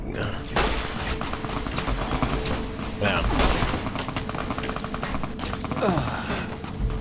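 Gunshots in Fallout New Vegas, steady loud rattling fire with heavy thumps throughout, layered under a talking voice.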